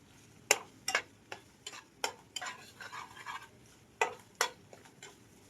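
Capsicum stirred in a pan with light frying: a string of sharp utensil clacks and scrapes against the pan at irregular intervals, with a faint sizzle underneath and no voices.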